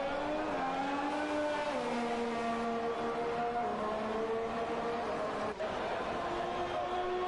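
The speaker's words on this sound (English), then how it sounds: "Got a Ferrari coming across here." A Ferrari Formula 1 car screams past in a racing video game at the Spanish Grand Prix, its high engine whine shifting pitch as it goes by over a constant loud bed of other engine noise.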